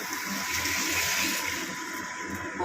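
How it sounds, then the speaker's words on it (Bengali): Water pouring into a shrimp and potato curry, a steady close gushing rush that lasts throughout, with no talk. "এবার আমি হালকা অল্প একটু জল দেব"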